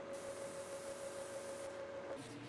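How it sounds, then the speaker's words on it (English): A Harbor Freight spray gun sprays primer onto MDF for a fireplace mantel with shiplap, a steady close hiss of atomized spray lasting a couple of seconds with a faint tonal whine underneath. "I'm spraying this through a Harbor Freight spray gun"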